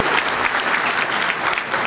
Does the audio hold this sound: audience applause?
yes